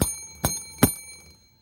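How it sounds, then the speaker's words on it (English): A small bell is struck three times in steady succession for a birthday announcement on a news show, each sharp ding ringing out and fading, close and clear with no talk. "Ring that bell."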